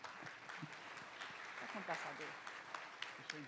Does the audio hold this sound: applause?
yes